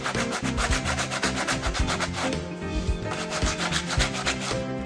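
Rapid, rhythmic rubbing strokes of hand sanding or rasping on a wooden sphere, loud and close, with a brief change in texture midway before the steady back-and-forth resumes.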